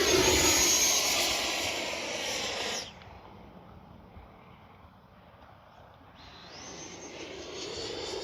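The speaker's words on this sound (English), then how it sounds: "Beautiful flying jet." An FMS 80mm F-86 Sabre radio-controlled electric ducted-fan model jet makes a flying pass, its whine loud and close at first, fading as it moves away, then rising again as it returns overhead.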